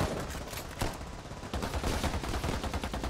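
Rapid gunfire from a weapon in the zombie survival game Pandemic Express: dense, continuous bursts of shots with sharp repeated cracks, loud and sustained with no voices over it.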